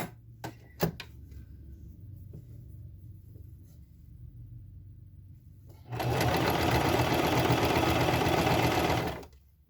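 A sewing machine stitches shorts fabric, starting after a few faint clicks and handling noises and running as a loud, steady close whir for about four seconds before stopping.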